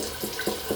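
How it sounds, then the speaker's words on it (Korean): A bathroom tap runs in a gentle trickle while a makeup brush is rinsed beneath it, soft continuous water with a few small splashy bursts at regular intervals; no speech. "물을 이렇게 트는 게 아니고 이렇게 졸졸졸 위로 튀지 않게"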